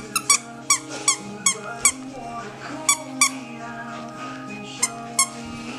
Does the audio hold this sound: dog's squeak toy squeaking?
yes